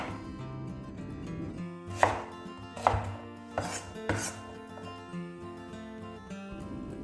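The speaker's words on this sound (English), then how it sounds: "I'm just going to roughly chop the onion" A knife roughly chops a large white onion on a board, with about five sharp, close chops at uneven intervals over soft background music.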